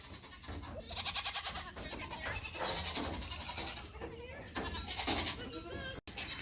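Several farm goats bleat repeatedly and loudly up close, overlapping calls filling the whole stretch with brief gaps between cries.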